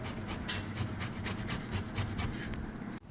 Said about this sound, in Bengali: এবার পোড়া আমটাকে গ্রেটারে একটু গ্রেট করে নিচ্ছি।